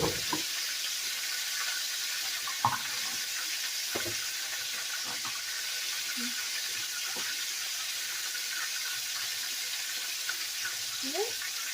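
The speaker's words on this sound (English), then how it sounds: "going to add the milk, which is 1 1/2 cups of milk. And so we're stirring" Milk is poured into a hot pan and stirred while cooking Chicken Francisco, giving a steady, fairly quiet sizzling hiss broken by occasional faint scrapes and clinks of a utensil.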